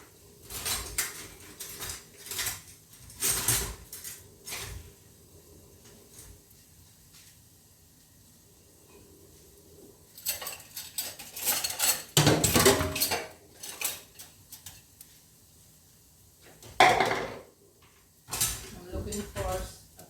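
Rummaging through kitchen utensils in search of a bigger spoon while making curry chicken: bursts of metallic clinking and clattering of cutlery and pots, separated by quiet gaps, close by and fairly loud.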